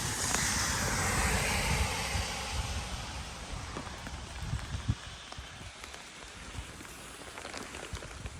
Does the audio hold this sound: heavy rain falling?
yes